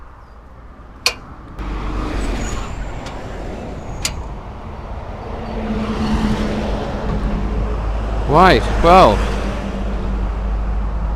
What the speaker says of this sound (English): we've got lots of heavy traffic, motorbikes, cars and lorries coming by behind us